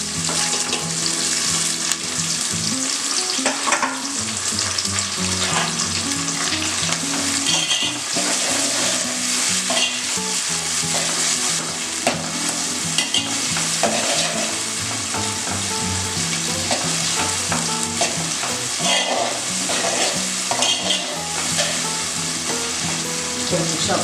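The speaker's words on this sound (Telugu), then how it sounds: "ఆనియన్ కొంచెం లైట్ బ్రౌన్ వచ్చిందండి. టమాటాలు వేస్తున్నాను." Onions and tomatoes sizzle steadily in a pan while being stirred, with occasional scraping and clinks over the constant frying hiss, close and continuous.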